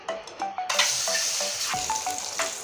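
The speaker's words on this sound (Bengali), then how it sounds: "এই লবণ হলুদ মাখানো ডিমটা ছেড়ে দিচ্ছি তেলে" Eggs coated in salt and turmeric frying in hot oil, giving a steady, close sizzle with bubbling crackles and a few light stirring scrapes.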